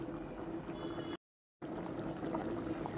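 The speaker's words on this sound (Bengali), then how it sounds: "ডালটা পুরোপুরি ফুটে গেছে, এবার আমি চালটা দিয়ে দেবো" Raw rice is poured into fully boiled lentils in a pot for khichuri. A steady, soft rushing pour fills the clip with no talking, broken by a brief total dropout in the middle.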